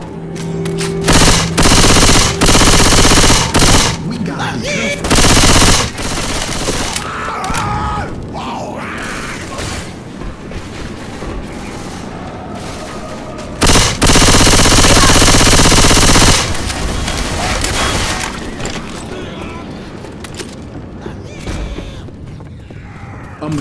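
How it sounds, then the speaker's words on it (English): Automatic machine gun fire in the game Left 4 Dead 2 on the Dead Air campaign, with loud sustained bursts of rapid shots separated by short gaps, mixed with game effects and faint shouting voices. "Grabbing a machine gun."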